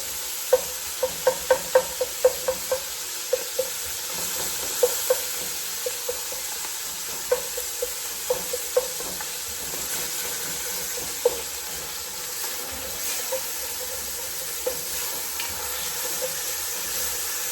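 Ground bison meat browning in a hot pan, broken up with a wooden spoon, a continuous sizzle with repeated sharp scraping taps of the spoon against the pan.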